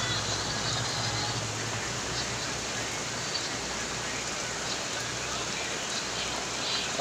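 Heavy rain pours down steadily as a dense, continuous hiss and roar, loud and unbroken throughout, with a low rumble underneath and no voices.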